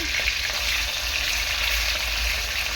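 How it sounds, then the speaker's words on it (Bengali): Tilapia pieces fry in hot oil in a wok, giving a steady, dense sizzle that holds evenly close up throughout, with no voices. "অল্প অল্প করে মাছ কড়াইতে দিয়ে ভাজবো"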